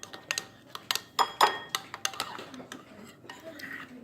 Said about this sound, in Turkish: Onları karıştırmak için kaşık alacağım.